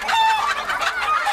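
A rooster crows once as a comic sound effect in a Thai sitcom, a loud, close, strained call lasting just over a second, heard alone.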